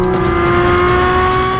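A Porsche 718 Cayman GT4 RS engine revs hard and loud, a sustained high-pitched steady tone climbing slightly in pitch, heard close with no talking.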